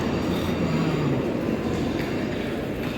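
A train rumbles at Bristol Temple Meads railway station, a steady loud rolling roar with a faint squeal of wheels, no voices.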